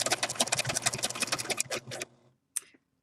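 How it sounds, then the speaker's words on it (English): A sewing machine stitches a zigzag satin edge along fabric, running in a fast steady rattle for about two seconds, then stopping, followed by a brief short burst of needle motion. "I like to have the right side of the zigzag stitch go slightly off the edge of my fabric"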